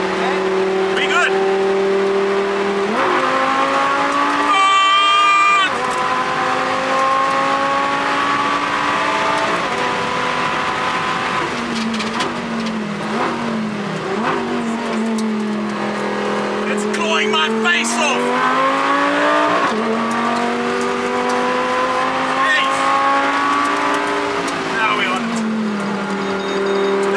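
Trofeo series race car driven hard on a track at a motoring festival, its engine droning loudly with rising and falling pitch through gear changes, tyres squealing at times, a voice occasionally audible over the continuous roar.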